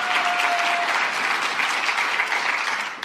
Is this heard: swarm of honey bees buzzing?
no